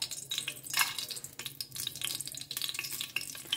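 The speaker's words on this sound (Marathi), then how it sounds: "आतां हें न्ही मातशें फ्राय करून घेवंक जाय" Whole cloves, star anise, cinnamon stick and bay leaf fry in hot oil in a pan. A faint, steady sizzle crackles close by and is briefly stirred, with no voices over it.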